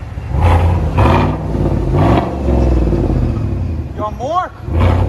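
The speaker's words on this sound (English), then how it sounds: "It's a SLE edition with a muffler delete." A 2019 GMC Sierra SLE with a 5.3L engine and dual exhaust with muffler delete rumbles loudly nearby, rising in a few throaty revs with a low growl between, while people talk over it.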